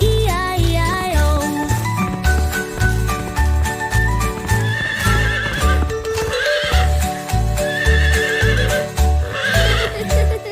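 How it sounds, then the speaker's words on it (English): Horse neighing within a bouncy children's farm song, whinnies rising over steady music with a thumping beat and clip-clop-like rhythm, loud and close throughout. "And on that farm he had a horse, E-I-E-I-O."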